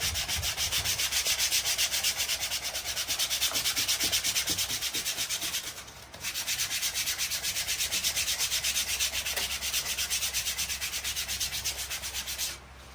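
Steady, continuous rubbing on a leather car door card as a cloth works the protective film off, close and even throughout with a brief pause near the middle; no talking.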